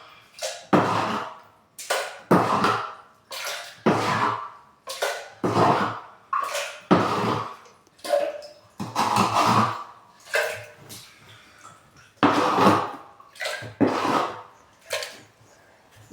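Tap water splashing and sloshing inside a dirty rainwater container during rinsing, coming in repeated surging bursts roughly a second apart, close and fairly loud.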